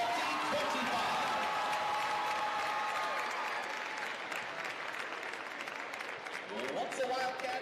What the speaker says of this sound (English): Let's give one more roaring round of applause for the senior class of 2025.